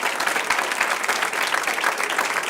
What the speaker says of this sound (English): I'd like a round of applause for Chuck Sherrill, our host.